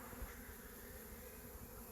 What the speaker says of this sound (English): So that's the bees